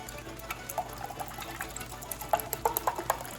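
Watermelon yogurt smoothie poured into a glass, soft irregular liquid splashes and glugs, faint at first and growing busier and brighter near the end.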